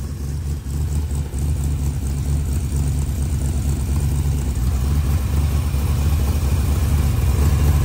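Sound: race car engine idling through exhaust

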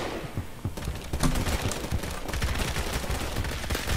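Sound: gunfire in the video game Phantom Forces on Roblox

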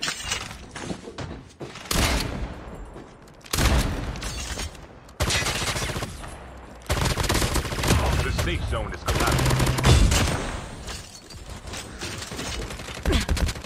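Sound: shotgun gunfire in a battle royale video game

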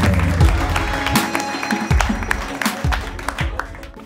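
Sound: applause

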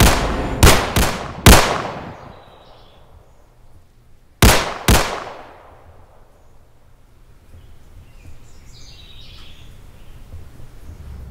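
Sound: gunshots in a short film

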